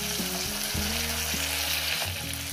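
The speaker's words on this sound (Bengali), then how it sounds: "মশলা বাটি ধোয়ার জল দিয়ে দিলাম আমরা" Potatoes and onions frying in a pan for a spicy parshe fish curry as water rinsed from the spice-paste bowl is poured in, giving a steady, close sizzle with shifting stirring tones throughout.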